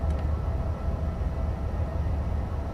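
Steady, loud low rumble of a BR101 electric locomotive running at speed in Train Sim World, a continuous even drone with no talk over it.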